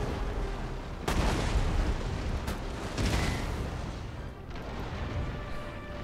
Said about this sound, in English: Soldiers or marines getting shot to pieces here.